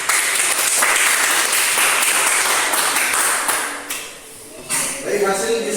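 Classroom students clapping for a presenting group during a school lesson, loud, close, busy applause that thins out near the end and gives way to scattered taps and a voice.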